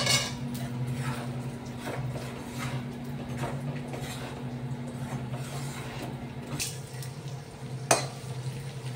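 Ground dry fruits roast in a pan on a low flame, with steady soft stirring and scraping of a utensil against the pan, a faint sizzle and one sharper clink near the end.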